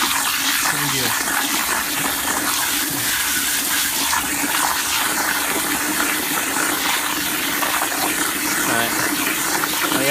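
Water runs steadily over crystal reef aquarium sand as it is rinsed clean, a continuous loud rushing gush that lasts the whole time, with faint hints of voice underneath.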